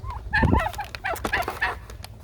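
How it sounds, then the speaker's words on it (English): Two turkeys gobble close by in a rapid, warbling burst, followed by a few shorter gobbling calls in quick succession. "not the roosters, the other two turkeys"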